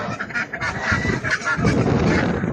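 Geese at the Sabunchu poultry market in Azerbaijan let out a run of loud, nasal honks close by, several calls overlapping against a busy market background.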